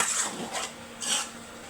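A spoon scraping and stirring potatoes with beef tripe in a pan, with two or three short rasping strokes against the metal, close and fairly quiet, with no voices.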